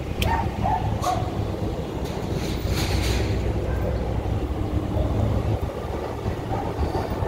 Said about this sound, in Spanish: Ese perrito no se ve nada amigable.